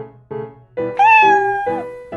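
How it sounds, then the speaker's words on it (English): A cat meows repeatedly and loudly up close, giving a series of five drawn-out, rising and falling cries with brief gaps between them and no talking. "That's a cute cat."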